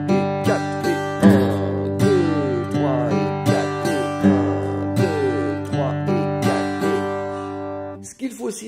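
Country/bluegrass guitar accompaniment alternating single bass notes with strummed chords in a steady, punchy rhythm, played close and clear with no talking, ending with a brief different sound at the end.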